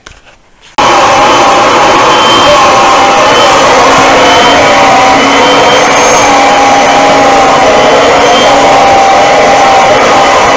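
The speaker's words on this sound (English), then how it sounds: "Oh, what a feeling! I'm vacuuming the ceiling." A vacuum cleaner cleaning the painted headliner on a boat cabin ceiling roars loud and steady after a brief quiet start, running continuously at close range.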